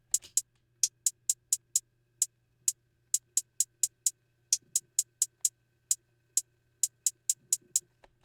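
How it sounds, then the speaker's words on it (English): Programmed hi-hat in an FL Studio ambient trap beat: crisp short metallic ticks in a sparse, syncopated pattern with quick rolls, standing alone over a faint low hum. "Then I added my hi-hat."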